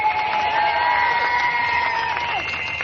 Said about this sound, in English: Dr. Eng Heng, please lead us in another cheer for Singapore, for the People's Action Party.